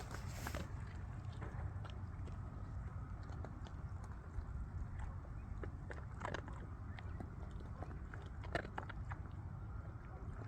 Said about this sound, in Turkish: Kıtır kıtır mama sesi zaten.